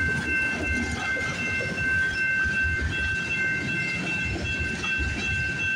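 Close and loud, a CP freight train hauling grain cars and steel coils rumbles by steadily, with clattering wheels over the rails and a faint high-pitched squeal throughout.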